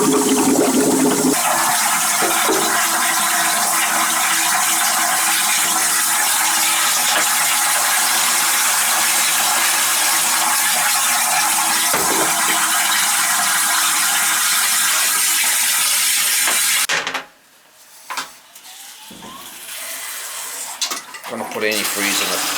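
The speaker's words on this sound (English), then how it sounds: "I'm gonna pump it out" A pump drawing water out of a three-season cottage's plumbing for winterizing, a loud continuous gurgling, rushing churn lasting about seventeen seconds, then cutting off to quieter clunks and handling noise.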